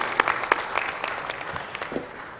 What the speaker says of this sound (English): I would like to ask everybody to a big applause to the GRG